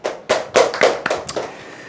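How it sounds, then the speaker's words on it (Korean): A brief burst of hand claps, several sharp claps in an uneven rhythm that quickly fade, from a small group nearby. "박수 한번 치시죠"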